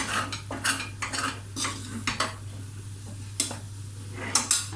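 Flour and other ingredients being stirred and roasted in a pan for potato soup, with repeated scraping strokes of a utensil against the pan over a steady low hum, close and moderately loud.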